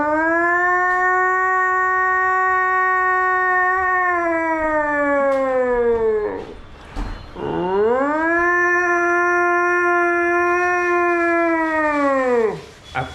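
A man imitates a howling dog with two long, sustained mournful wails, each sliding down in pitch at the end, separated by a short pause, loud and close with no other sound.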